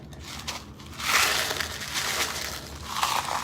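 Pieces of large rose gold glass poured onto resin, a crunchy clattering cascade of glass fragments that swells after the first second and keeps rustling and crackling in bursts, close up and without talk.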